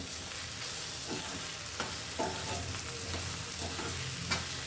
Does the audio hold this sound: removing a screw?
no